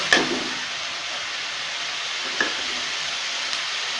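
Ginger garlic paste and spices sizzle steadily in a pan as a beef tripe fry is cooked, a constant hiss with a couple of brief stirring scrapes, no voices.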